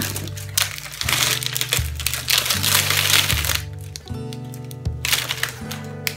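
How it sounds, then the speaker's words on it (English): Plastic packaging crackles and crinkles as a new set of golf clubs is unwrapped, with steady rustling, sharp crackles and low clunks of the clubs shifting, close by and fairly loud, without talk. "I'm just going to quickly unwrap this whole thing"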